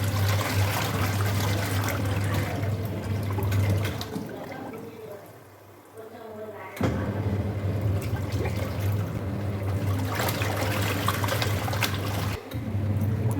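A washing machine rinses clothes: water trickles and sloshes over a low motor hum, fades into a quieter lull, then the churning water comes back strongly.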